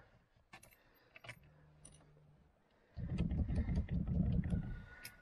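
A Citroen XM 3-litre V6 engine is cranked on starting fluid after some keys jingle and a short low hum, then churns loudly and roughly for about two seconds without catching, with no talking.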